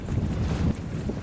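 Strong wind roaring steadily in a survival video game, with a dense low rumble and gusty broadband rush that swells briefly partway through, loud and continuous with no talking.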